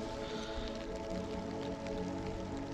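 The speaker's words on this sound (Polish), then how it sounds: "Widzicie, jak pada?" Steady rain falls on an open field, giving a soft, continuous patter and hiss of drops at a consistent level throughout, faint and close, with no talking.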